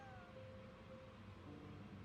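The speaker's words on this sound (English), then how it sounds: "That's one cute cat." A cat meows in a film scene, with steady background noise and faint music under it and a smooth gliding cry that slowly falls in pitch.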